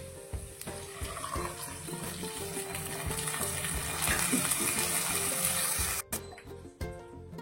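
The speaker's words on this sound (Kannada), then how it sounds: "ಇವಾಗ ಇದಕ್ಕೆ ನೀರು ಮಿಕ್ಸ್ ಮಾಡ್ಕೊಳ್ಳೋಣ" Water poured into roasted vermicelli in a pan while making shavige uppittu, a steady gushing and sizzling wash that continues for several seconds before a brief break near the end.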